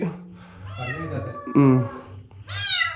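A cat meows a few times in drawn-out, rising cries, with a louder high-pitched call near the end, mixed with nearby voices.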